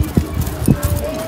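Hooves clip-clop at an uneven beat on a short stretch of a horse ride, mixed with voices and outdoor noise.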